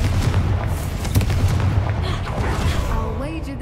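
A Confringo spell explodes in the video game Hogwarts Legacy, a loud, close boom with crackling debris that rumbles on and fades over a few seconds.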